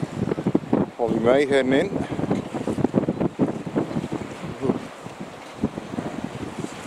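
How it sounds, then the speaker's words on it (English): Strong wind blows across a boat mooring, roaring and buffeting the microphone steadily throughout, with someone talking over the gusts. "Yeah, there's quite a blow going on here."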